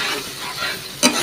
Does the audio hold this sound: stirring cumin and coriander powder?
yes